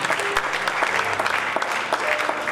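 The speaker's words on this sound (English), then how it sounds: "We are clapping for Jesus." Worshippers in a church service clap together for Jesus, a thick sustained wash of hand claps from a whole congregation, close and even, with a few voices faintly underneath.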